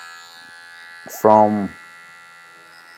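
An electric hair trimmer or shaver, used for a low drop fade on a curly top, gives one short, loud buzzing burst of under half a second, set against a quiet background hum and a brief spoken word.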